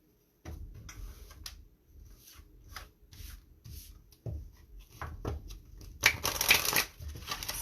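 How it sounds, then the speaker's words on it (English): Ask Your Guide oracle cards shuffled by hand, a run of soft riffling and rubbing bursts in uneven rhythm, quiet and close, growing busier and louder toward the end. "I'm going to pull out Ask Your Guide cards."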